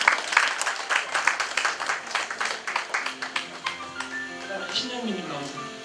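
Hall applause at a broadcaster's tenth-anniversary ceremony and top-ten singers award, rhythmic clapping close by that fades after a few seconds as a tonal music sting takes over.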